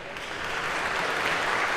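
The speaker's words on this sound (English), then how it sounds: "round of applause for our volunteers" A lecture hall audience breaks into dense, building applause for volunteers coming down, a continuous wash of many hands clapping that grows slightly louder.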